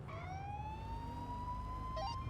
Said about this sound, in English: I need you to fully turn your sirens on